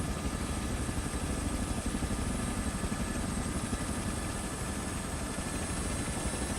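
A Robinson R66 helicopter lands nearby, its rotor and turbine giving a loud, steady, continuous thrum with a rhythmic beating pulse throughout.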